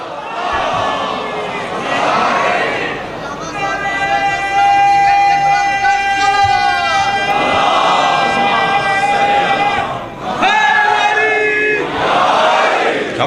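A packed majlis congregation at a Lahore mourning gathering chants salawat loudly in unison, rising in powerful collective waves of voices that swell, briefly dip, then surge again throughout.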